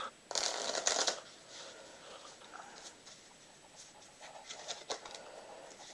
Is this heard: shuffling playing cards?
yes